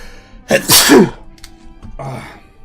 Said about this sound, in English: Sorry for the sneeze.